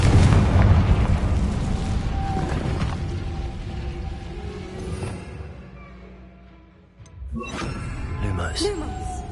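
A Confringo fire spell in the video game Hogwarts Legacy goes off as a loud, booming blast that rolls and fades, then a second burst follows, with game sounds around it.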